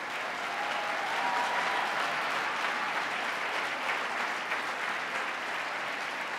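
Sustained applause from a large audience at a state of the State address, dense and steady throughout at an even, loud level with faint cheering voices mixed in.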